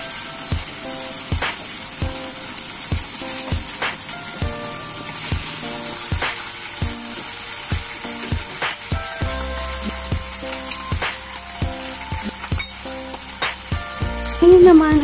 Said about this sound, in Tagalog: pwede na nating prituhin ang ating ham sa isang wok